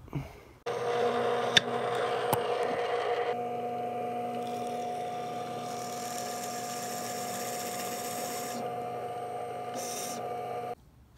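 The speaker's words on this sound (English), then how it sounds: "I'm going to take them over to the drill press and inset for screw to hold it together, and then for the mounting holes" A drill press runs on wood to bore a screw inset and mounting holes, starting with a steady motor hum and a higher grinding as the bit cuts, then a long even drone until it shuts off.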